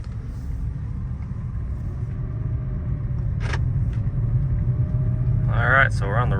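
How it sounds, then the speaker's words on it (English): A $225 Mercedes-Benz C230 drives on the road, with a steady low engine and road rumble running throughout. A brief sharp click comes midway, and a person speaks near the end. "we're on the road now. We're driving under its own power."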